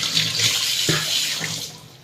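Tap water runs steadily into a sink while someone rinses their face, a continuous close splashing hiss with small dips as hands break the stream.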